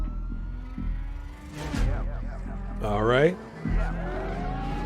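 Police sirens wail with rising-and-falling sweeps over engine and traffic noise in a Need For Speed Unbound high-speed cop chase, loud and close, with a person speaking briefly at the start.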